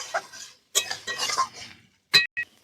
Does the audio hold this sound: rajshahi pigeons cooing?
no